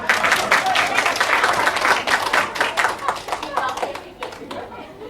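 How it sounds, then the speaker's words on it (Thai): Audience clapping at a gathering, dense applause from many hands that builds loud then gradually thins and fades over several seconds, with voices mixed in. "ขอเสียงปรบมือ่อยครับ"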